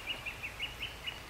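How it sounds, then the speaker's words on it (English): Outdoors in a vegetable garden, a cockatoo gives a faint, regular series of short high calls, several in quick succession, distant and alone with no talk. "hear that? It's a cockatoo."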